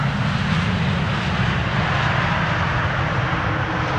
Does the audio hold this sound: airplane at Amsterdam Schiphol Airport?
yes